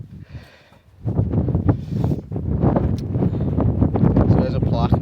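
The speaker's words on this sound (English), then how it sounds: "it's very windy and misty at the top today" Strong wind on a misty hilltop buffets the microphone in loud, gusty rumbles, with a voice speaking underneath.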